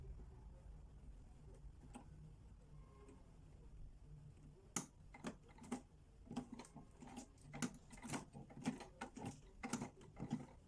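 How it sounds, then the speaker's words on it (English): A sewing machine edge stitching a bias-bound neckline, quiet and close: a low hum at first, then rapid, uneven ticking and clicking from the needle. "I want to edge stitch it, meaning that I am going to stitch the edges of the neckline."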